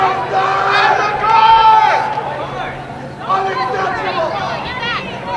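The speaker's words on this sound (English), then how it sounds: "And the crowd really getting upset down there" Spectators at a women's college soccer match between Mount Union and Capital, chattering and calling out in a loud, restless babble that swells and dips over the few seconds.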